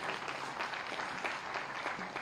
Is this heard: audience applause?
yes